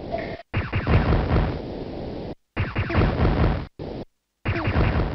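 Shooting and explosions from the DOS shareware game Terrifier, a Thrust-like ship shooter with bomb-collecting: dense bursts of blasts and crackling bangs that cut in and out with short gaps of silence.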